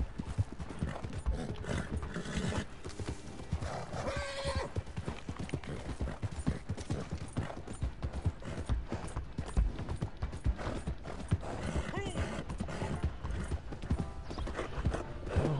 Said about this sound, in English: Horse isn't fast enough.